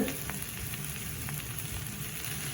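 Chicken butter masala being stirred in a pan, with a steady, soft sizzle throughout and a few faint scrapes of a spoon, quiet and continuous with no talking.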